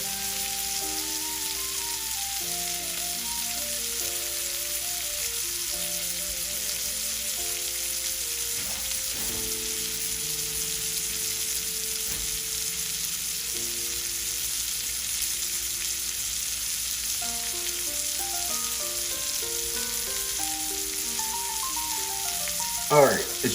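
Steak frying in butter in a pan gives a steady, soft sizzle that runs the whole time under gentle background music.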